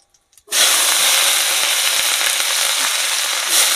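Chopped onions hit hot fish-frying oil already toasting whole cumin seeds, bursting into a loud, sudden sizzle that holds steady and close for several seconds.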